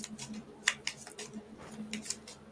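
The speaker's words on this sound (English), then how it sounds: "shuffle these." Game cards are being shuffled for the board game Tiny Towns: a run of quick, crisp riffling flicks and soft card slaps, close by and moderately loud, with no speech.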